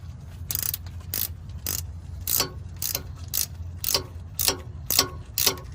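A wrench ratchets against the stuck oil drain plug of a Ford F-150 EcoBoost, giving a series of about a dozen crisp clicking strokes in a loose rhythm, close up with no talking.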